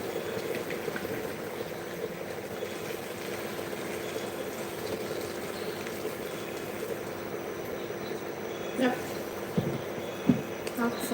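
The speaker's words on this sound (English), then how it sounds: "So we allow it to boil over." A pot of hot water with tomato, onion and chili cooks over heat, giving a steady low bubbling hiss, with a few louder pops and clatters near the end.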